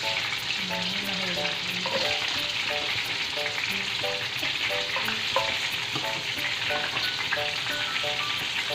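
Onion, garlic and ginger sauté together in hot oil in a pan for coconut squid, a steady loud sizzle with occasional stirring scrapes and a faint tonal hum in the background, no speech.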